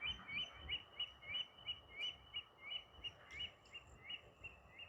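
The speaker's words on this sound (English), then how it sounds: "you can see there are a few birds going on" Birds chirp outdoors at night, a fast regular series of short high chirps repeating about three times a second at moderate distance, over low rumbling background noise.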